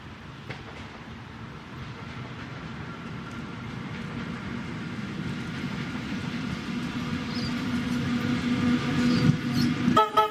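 A Tait train rumbles along the rails with a steady low drone that gradually grows louder, with faint squeals and clanks toward the end.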